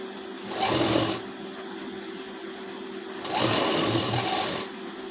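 A domestic sewing machine stitches a blouse in two short bursts, each a brisk whirring run of about a second, with a quieter steady hum in between.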